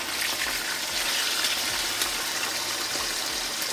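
Lane snapper and parrot fish frying in hot oil, a steady dense sizzle and crackle that holds close and fairly loud throughout with no talking.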